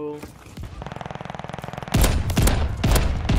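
Rapid automatic gunfire in Call of Duty Vanguard, a fast even burst of shots followed by several heavy, loud booming shots close up, with a brief voice at the start.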